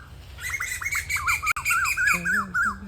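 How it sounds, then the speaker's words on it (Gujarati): Two koels call near a village home in Botad. A quick series of rising, whistled notes repeats steadily over a low background hum, clear and fairly close. "અહીંયા હે ને 2 કોયલ આવી તો બોલે"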